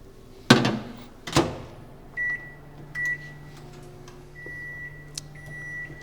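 A microwave oven melts chocolate for an almond cake: two sharp door thunks, then a steady low hum through the rest, with short electronic beeps sounding at intervals.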